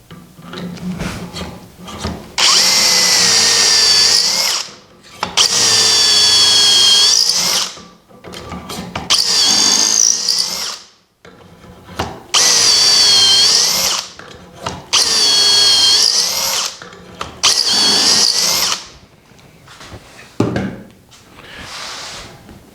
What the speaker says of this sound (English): we're going to drill through 2